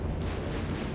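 A howitzer firing in Company of Heroes 3, heard as a heavy, booming blast of artillery in a short, loud burst.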